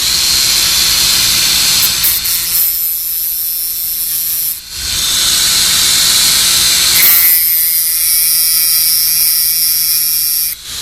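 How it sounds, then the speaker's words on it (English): A Dremel rotary tool grinds the teeth of a chainsaw chain held on the bar, loud high whining bursts broken by two short pauses where the motor dips before spinning up again. "I'm thinking about not using the Grainberg thing as much as this Dremel."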